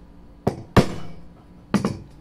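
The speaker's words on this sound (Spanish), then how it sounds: "Con un cincel bien afilado y un martillo" A hammer strikes a sharp chisel trimming the side of a wooden drawer piece flush, three crisp close taps with a pause before the last, in a quiet workshop.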